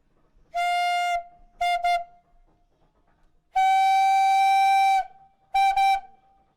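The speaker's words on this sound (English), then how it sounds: "It carries a variety of whistles on it" A loud steam donkey whistle blows in four blasts, two long and two short doubled toots, with clear tonal ringing and quiet gaps between, the engine's boiler fired by wood.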